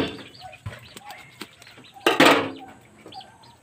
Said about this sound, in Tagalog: magkatay ng manok